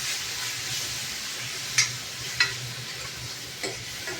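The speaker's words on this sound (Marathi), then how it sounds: "परतून घ्यायचं चांगलं." Ground masala paste sizzles and fries in a pan for a mixed green and yellow pea curry, a steady hiss broken by a few sharp clicks of a spoon stirring against the pan.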